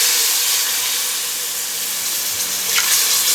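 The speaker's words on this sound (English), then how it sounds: "So now that it's been cooking for a few minutes, I'm going to start ladling my broth in." Broth ladled into a cooking white roux for caper meatballs, giving a steady close steam-like sizzle and hiss with a brief splashy pour near the end, no talk.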